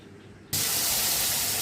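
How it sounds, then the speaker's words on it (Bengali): Cardamom pods dropped into hot oil left from frying paneer balls set off a sudden loud, continuous hiss that starts abruptly after a quiet moment and stays close and steady. "এবার তেলের মধ্যে দিয়ে দিলাম কয়েকটা এলাচ।"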